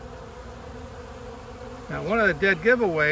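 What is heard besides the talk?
honey bees robbing a hive colony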